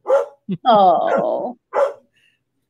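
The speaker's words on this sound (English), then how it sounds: "Who's that barking?" A dog barks and yips in several short bursts, close and loud, with a longer whining bark in the middle, and a person briefly speaks over it.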